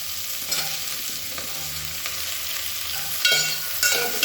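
Radish sautéing in hot oil with onion and green chilli, a steady close sizzle and fry with occasional stirring scrapes of a spoon against the pan, no voices.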